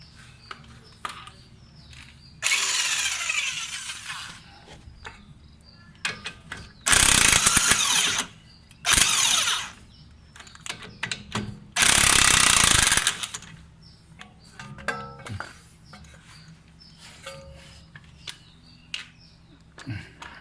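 An impact wrench loosening a 22 mm nut on a car's shock absorber mount fires in several loud rattling bursts of one to two seconds each, separated by quieter pauses with light mechanical clicks and handling noise.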